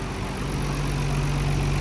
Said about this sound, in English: let me go ahead and turn this engine off